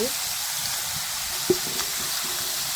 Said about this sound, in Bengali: লাউটা যে চুলোর উপরে দিয়ে দিলাম, লাউ দিয়ে আর আলু দিয়ে আমি দিয়ে দিচ্ছি।